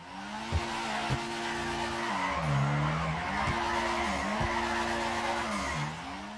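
Car tires squeal in long, wavering tonal screeches while drifting in the video game GTA 5, with a steady engine drone underneath, brief sharp thumps between slides, and the squeal dipping and rising in pitch as the car swings through the drift.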